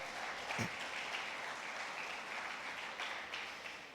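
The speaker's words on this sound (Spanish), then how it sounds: "Dale ese aplauso al Señor." Church congregation applauding during a Spanish-language sermon, a continuous wash of clapping heard at moderate distance, steady throughout with no voices over it.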